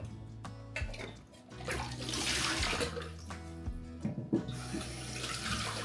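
Water gushes steadily from a kitchen tap into a sink, a close, continuous splashing flow with a few clatters of objects under the stream.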